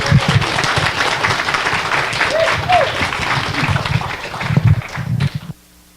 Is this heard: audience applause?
yes